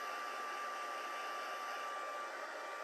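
A handheld heat tool or dryer blows steadily on stamped embossing paper in a crafting setup, a constant close whooshing drone with no speech.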